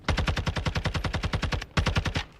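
Rapid automatic gunfire from Call of Duty Modern Warfare II, a steady fast stream of close, punchy shots in one long burst, a brief pause, then a second shorter burst, with no talking.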